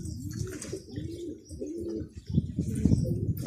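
Pigeons coo in a low, throaty, repeated rhythm, several birds layered close by, with faint chirps and rustling above them.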